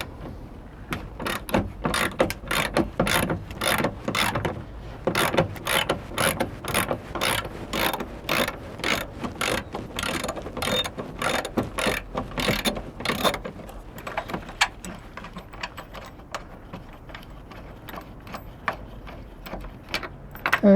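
Ratchet undoing a side skirt bolt on a Mitsubishi 3000GT, rapid close-up clicking in repeated bursts of strokes that slow and thin out toward the end, with no talking.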